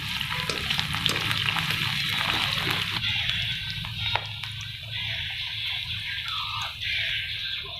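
A medium onion, freshly sliced, goes into hot oil with crackling cumin seeds and fries toward golden, giving a steady, close, continuous sizzle broken by a few sharp pops and stirring scrapes.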